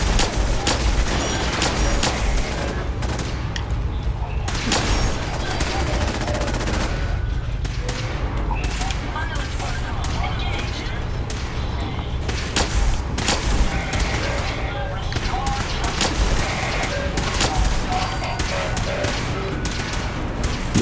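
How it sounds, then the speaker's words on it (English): Dense gunfire in the video game Fallout 4, with rapid bursts of automatic shots and booming impacts that keep going through a long firefight. Someone talks now and then over the shooting. "We did get into a gunfight, it seems."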